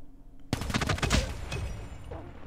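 Rapid automatic hipfire from a Cordite Zero G in Call of Duty Mobile, a loud burst of shots starting abruptly and rattling on for about a second, then a trailing tail of game noise.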